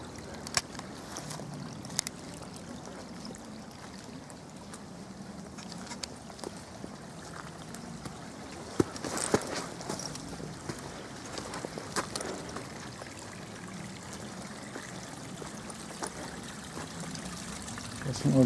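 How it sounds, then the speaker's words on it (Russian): Water pours from a pipe into a small stream feeding a pond, a steady outdoor rushing and trickling that runs continuously at moderate level, with a few scattered knocks and rustles on top. "так и из трубы идет более мощный такой поток"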